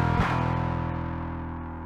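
A single sustained bass guitar note or chord runs through a SkarBassOne distortion pedal, gritty and harmonically rich, struck once and left to ring out as it slowly fades, with no talk.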